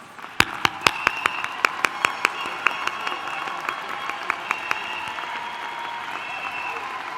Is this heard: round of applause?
yes